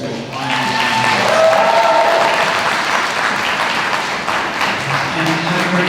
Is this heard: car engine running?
no